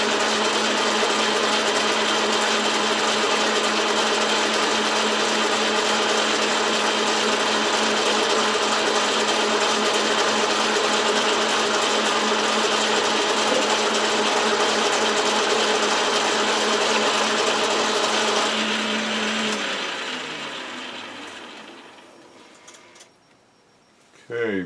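A metal lathe parts off a workpiece with a steady, loud mechanical whine and layered tonal hum that holds for about twenty seconds, then winds down and falls quiet near the end.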